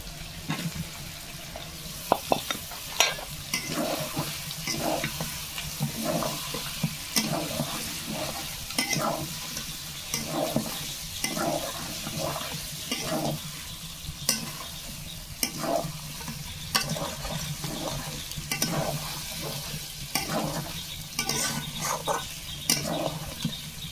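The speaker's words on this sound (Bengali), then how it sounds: "ঢাকনা দিয়ে আমি একটু ভাজিয়ে নিচ্ছি" Meat and fried potatoes crackle in a pan as they are browned, a steady close sizzle punctuated by regular scraping stirs every second or so, continuing without speech.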